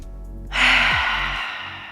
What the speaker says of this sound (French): Prends 3 grandes respirations par le nez, expire par le nez ou la bouche.